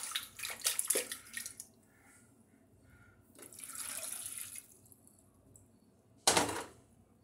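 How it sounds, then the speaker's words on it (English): Water is poured over cannabis roots in a pot, giving splashing bursts that come and go, a softer wash in the middle, and a sharp loud splash near the end, close by with no speech. "So yeah, I'm going to cover the roots with water."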